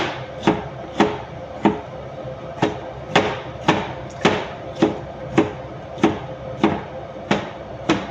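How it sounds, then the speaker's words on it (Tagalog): A knife cuts through tomatoes on a cutting board in a home kitchen, about fourteen sharp, evenly spaced chops with brief thuds, close and fairly loud, with no talking. "Maghiwa muna tayo ng kamatis. Ito po yung kamatis. Ihiwain po natin."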